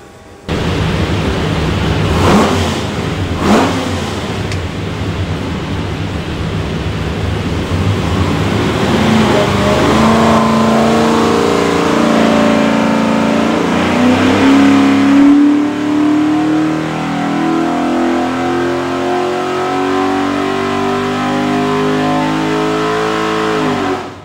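A stacked Superformance Cobra 427 with a Windsor V8 and Borla exhaust is run up on a dyno, loud and close, its engine note climbing steadily through the gears with a couple of sharp blips near the start and a rising roar to the end.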